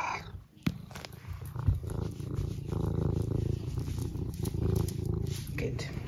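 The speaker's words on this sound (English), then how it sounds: "I'm assuming that was your meow of approval" A cat purrs steadily and close up with a low rumbling throb, broken by a meow near the start.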